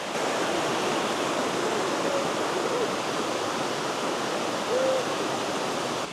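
A waterfall roars steadily as a broad, even rush of falling water, continuous and moderately loud, with faint high tonal calls briefly rising above it.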